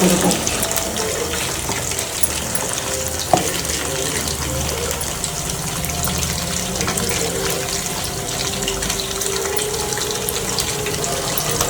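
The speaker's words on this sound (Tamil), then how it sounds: "இப்போ இந்த அரிசி போட்டுக்கலாம்" Soaked rice poured into boiling water in a pot for mutton biryani, a continuous close watery rushing and bubbling with one brief knock partway through.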